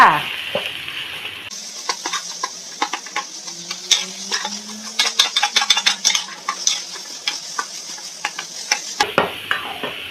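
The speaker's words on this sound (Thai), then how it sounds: "ใส่หมูสับของเราลงไปเลยจ้า ผัดรวมกันจ้า" Minced pork stir-fried in a pan with bean sprouts, tofu and egg, with a steady sizzle under dense, irregular scraping and clattering of a spatula against the pan, close and fairly loud throughout.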